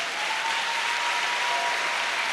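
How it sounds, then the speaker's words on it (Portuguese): A church congregation claps steadily and loudly throughout, a dense, continuous wash of applause with no pauses. "Pode aplaudir o Senhor."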